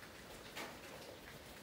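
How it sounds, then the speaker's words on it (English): Rain from a tropical storm in Jamaica falls in a faint, steady hiss with no other sounds standing out. "It has been pure rain,"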